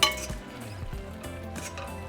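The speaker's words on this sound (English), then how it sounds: "So now we're just going to return our pasta into the sauce. So just mix it." Spaghetti for Mexican red espagueti ranchero tossed back into its sauce in a pot, heard as close metallic utensil scrapes and light clinks against the pot in a steady stirring rhythm, with no talk.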